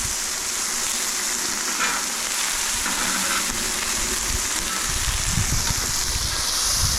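Burger patties and onions sizzle on an outdoor griddle in a steady, loud hiss with crackling spurts, gusts of wind rumbling underneath.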